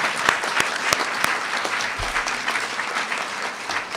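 Sustained crowd applause for state legislators at the Maryland governor's bill-signing event, with a steady wash of clapping and a few sharper close claps standing out.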